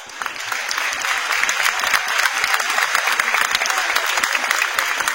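Steady audience applause at a mounted police demonstration at a horse show, a dense continuous patter of many hands clapping, fairly loud and even throughout with no voices standing out.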